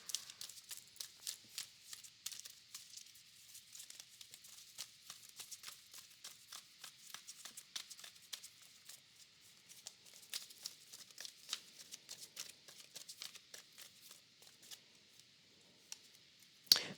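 Tarot cards being shuffled make faint, crisp flicks and soft clicks in quick, irregular runs, close by and quiet, with no voices.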